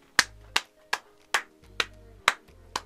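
Seven sharp, isolated hand claps at an uneven, slowish pace, close and dry, with a faint low hum between them and no talking.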